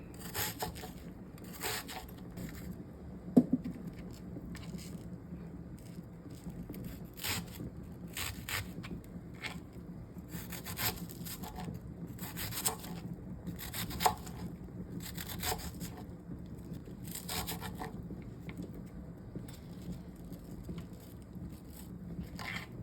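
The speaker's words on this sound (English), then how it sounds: "While the tomatoes are blanching, we'll just cut some onions." A knife cuts onions on a cutting board while an okra and tomato stew is prepared, giving a steady run of close, crisp chopping strokes with no talking.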